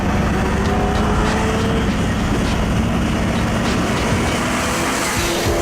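Lamborghini LM002 SUV engine roars loudly and continuously while driving, a dense close rumble with no talk over it.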